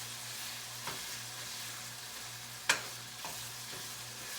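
Meat browning in a pan, a quiet steady sizzle with a low hum underneath and a couple of sharp utensil taps, one louder clack midway.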